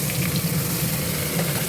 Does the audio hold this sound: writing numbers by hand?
no